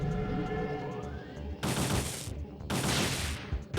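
Turrets open fire in the PS1 game Parasite Eve 2, two loud sustained bursts of rapid gunfire breaking over a low in-game hum, each lasting under a second.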